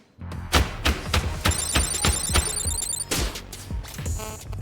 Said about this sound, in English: Why aren't you answering your phone, Jala?